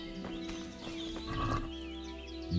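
Horse in a hardcore no-kill video game playthrough, with hoof clip-clops and a whinny-like call over steady game music and ambience, fairly close and moderately loud.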